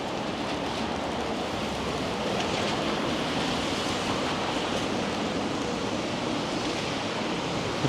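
Gusty wind on a blustery day in downtown Vancouver near Granville and Dunsmuir Street, a steady broadband rush buffeting the microphone throughout with no pauses.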